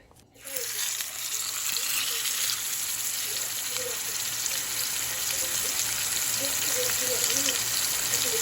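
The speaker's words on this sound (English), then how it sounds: "That is the sound that you want to hear when you put your steak in the fryer." Steady, loud sizzling of steak searing in a hot cast iron pan fills the scene from start to finish, a dense crackle of frying with faint popping, close by and without talk.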